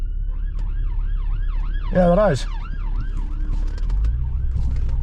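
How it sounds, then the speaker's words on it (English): A police siren wails in a fast repeating rise and fall as it passes along a UK road, loud over traffic and engine rumble, with a brief human shout and a short remark partway through. "there's not a police car coming down here."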